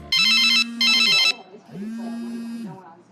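Mobile phone rings at a dinner table in two bright, buzzy ring bursts, each with a steady low hum beneath. The tone continues quieter after them.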